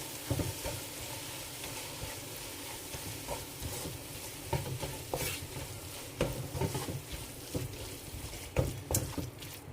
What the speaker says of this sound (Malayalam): പൊടികളുടെ പച്ചമണെല്ലാം പോകണം അതുവരെ ഒന്ന് വഴറ്റി കൊടുക്കാം